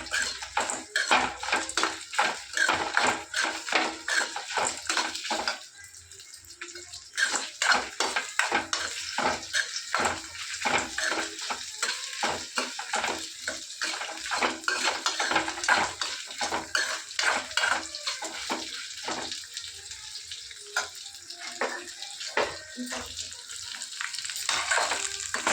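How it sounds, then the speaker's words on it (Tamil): Dried red chillies and other ingredients dry-roasting in a pan, with a spoon repeatedly scraping and stirring against the metal over a soft steady sizzle, continuing at a fairly even pace with a brief lull partway through. "வரமிளகாய் எல்லாத்தையும் சேர்த்து நல்லா ரோஸ்ட் பண்ணி எடுத்துக்கணும்"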